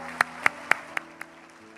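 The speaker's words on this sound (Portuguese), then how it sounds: "nós vamos dar ao Senhor uma linda e poderosa salva de palmas" Congregation clapping at a Quadrangular church service: five sharp, evenly spaced claps ringing out alone, each a little fainter than the last before the sound fades away.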